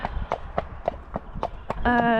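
A horse's hooves clip-clop steadily on a road at evening, evenly spaced sharp knocks close by, with a vehicle or engine hum rising toward the end.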